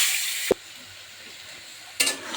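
A Bengali curry being sautéed and stirred in a pan. Short bursts of sizzling open and close the moment, with a sharp clink of a spoon against the pan and a quieter lull between them.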